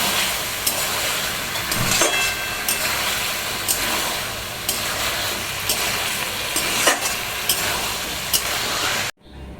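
Chicken pieces for chilli chicken stir-fry in a hot pan, a loud, constant sizzling hiss with occasional sharp clicks and scrapes, alone with no voices, cutting off abruptly at the end.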